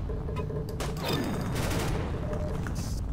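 Rapid bursts of weapon fire from a green fire weapon spammed in the Roblox game Arsenal, loud and dense, with crackling blasts stacked over continuous game noise.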